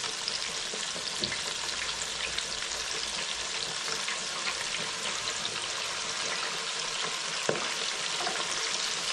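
Large fried chicken pieces sizzle steadily in hot deep oil, two at a time, a dense, even crackle that stays constant with no talking.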